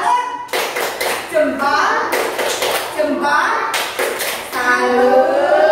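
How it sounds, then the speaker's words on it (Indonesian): Indonesian schoolchildren in a classroom do a rhythmic clapping chant during a civics lesson on national unity, loud hand claps in patterned bursts alternating with children's voices chanting along. "Tepuk salut."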